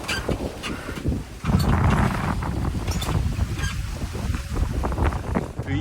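A sailing yacht makes about six to seven knots in a 12 to 18 knot wind, with a loud, continuous rush of wind and water that swells after a brief quieter moment.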